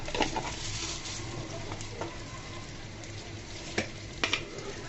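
Whole cumin and panch phoron spices sizzle steadily in hot oil in a pot for a sweet-sour green mango pickle, with a continuous frying hiss and a few faint clinks near the end.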